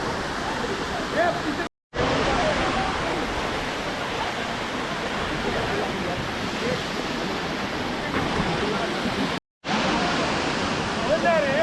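Steady, loud rush of water flowing at Khem dam in Dapoli, Konkan, fills the whole stretch, a broad continuous roar with two brief cutouts.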